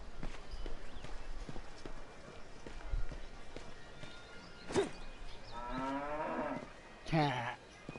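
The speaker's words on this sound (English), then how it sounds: "Your cows went" Cow mooing in The Bard's Tale video game, a low drawn-out moo with rising harmonics near the end, set amid game ambience, footsteps and a couple of sharp hits.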